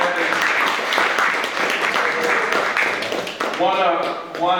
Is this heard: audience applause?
yes